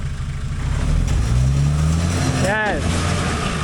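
A 4WD engine runs steadily while the vehicle crawls over rocks, a constant close rumble with a slight rise in pitch, as people talk over it.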